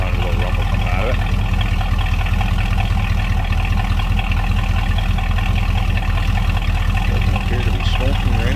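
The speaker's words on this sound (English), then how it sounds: "I can hear that 400 little rumble coming out of it." A 1967 Pontiac Firebird convertible with a 400 engine idles in a steady, low rumble that continues under a nearby voice.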